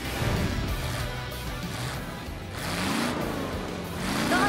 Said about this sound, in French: Regardez ces moteurs prêts à bondir sur la ligne de départ.